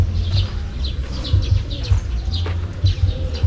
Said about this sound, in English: and then different pigeons.